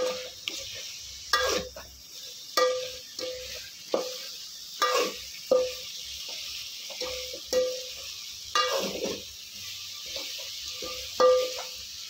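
Masala and vegetables sauté in a pan for a home-cooked festival meal, a steady sizzle broken by about a dozen rhythmic spoon scrapes and stirring knocks against the pan, with no talk.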